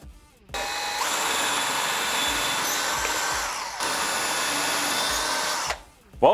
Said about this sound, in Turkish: Ama bunu delmeye alalım. Bakayım darbesine.